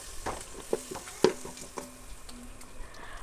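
Yogurt being stirred into biryani masala in a pan, with a spoon scraping and clinking in irregular strokes, one sharper knock in the middle, over a low, steady sizzle; close by and fairly quiet, with no talking.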